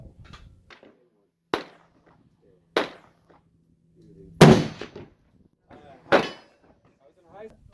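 Sharp, loud shots from a Winchester Model 70 Super Grade rifle in .340 Weatherby firing 225-grain TTSX loads, four separate cracks spaced a second or more apart, with brief talk between them.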